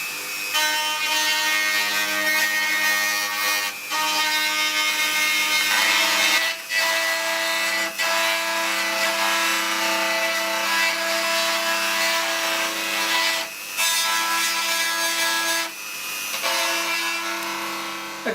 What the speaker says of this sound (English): take your Dremel, and we're just going to cut a groove all the way along the fracture